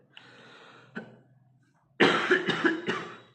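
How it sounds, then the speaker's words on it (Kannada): A close, harsh run of three or four quick coughs from someone with a three-day fever and persistent cough, preceded by quieter breathy throat sounds and a brief pause. "ಇದರಲ್ಲಿ ಕೆಮ್ಮು ಬೇರೆ"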